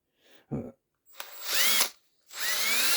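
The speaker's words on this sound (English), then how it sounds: "let me drill a hole through these" A power drill bores a hole through a part for a homemade stun gun. Two close, whining bursts rise in pitch, each about a second long, following a brief knock.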